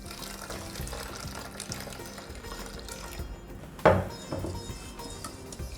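Little millet (saamai arisi), about a cup, washed and rubbed by hand in water, giving soft continuous swishing and sloshing with one sharper splash midway.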